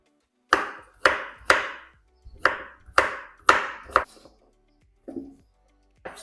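A series of sharp knife chops cutting zucchini into cubes on a cutting board, about eight distinct strikes in uneven rhythm with short pauses, close and clear.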